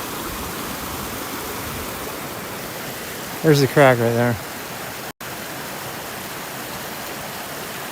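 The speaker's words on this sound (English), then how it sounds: "the sound of the ice, water." Steady rushing of flowing water fills the clip, broad and constant, with a brief spoken remark partway through.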